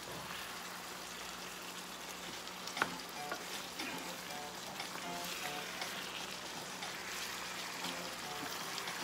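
Jumbo shrimp fry in chili sauce in a pan, giving a steady, close sizzle that runs the whole time, with a sharp clack partway through and faint stirring scrapes.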